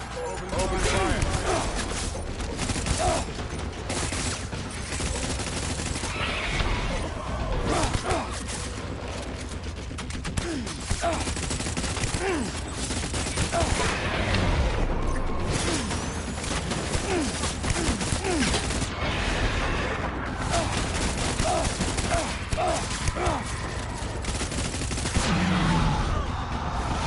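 Sustained gunfire in the Death Stranding video game, with bursts and rattling shots running throughout amid explosions and mechanical clatter, while someone talks over much of it.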